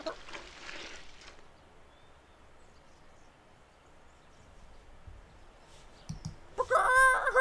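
A cartoon rooster in the Rube Works puzzle video game clucks and crows in a short burst at the end, after a stretch of faint background hiss.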